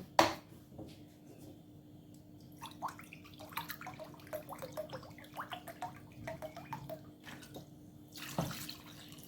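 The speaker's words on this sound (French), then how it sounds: "2 mesures de sucre. Voilà. Et je vais mettre 1 mesure d'eau." Water measured into sugar in a pan for a syrup for Algerian sugar-coated gazelle horn pastries, a close trickling pour with small splashy drips and handling clatter, no talking.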